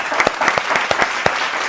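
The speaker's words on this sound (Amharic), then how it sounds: "ጭብጨባ ያስፈልጋል" Audience applause in a TV studio interview setting: a short, loud burst of clapping with distinct individual claps in an uneven rhythm, close and alone.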